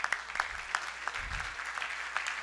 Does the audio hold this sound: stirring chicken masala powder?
no